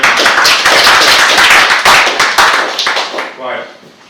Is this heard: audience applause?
yes